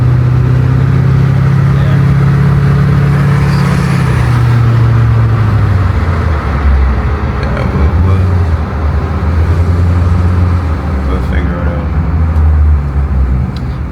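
A car engine hums steadily from inside the cabin while driving on a multi-lane road, a low drone with a slight pitch drop midway and road noise throughout, close and continuous, no talk.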